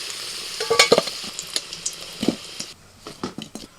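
Potatoes fry in hot oil and are stirred in a pan, with close scraping and clattering stir strokes over a soft sizzle and no talking.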